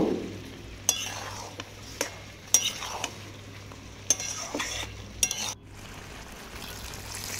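Chopped ridge gourd with turmeric powder is stirred and sautéed in a pan, a spatula knocking the pan sharply every second or so over a low, steady sizzle.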